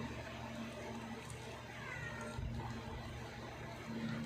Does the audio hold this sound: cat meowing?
yes